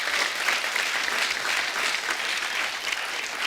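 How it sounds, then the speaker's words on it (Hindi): A television comedy show studio audience bursts into loud, sustained applause for a romantic film, a thick, even roar of many hands clapping throughout without breaks. "उस फिल्म के लिए जोरदार तालियां हो जाए"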